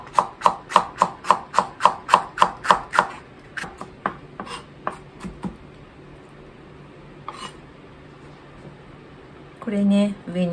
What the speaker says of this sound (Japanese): 紫玉ねぎをみじん切りにします